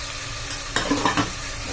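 Tomatoes with onion and ginger garlic paste sautéing in hot oil, a continuous loud sizzle with a few quick scraping stirs in the middle, close and alone.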